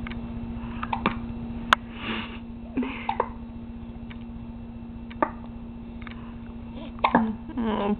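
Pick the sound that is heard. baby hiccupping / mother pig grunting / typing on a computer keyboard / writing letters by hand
baby hiccupping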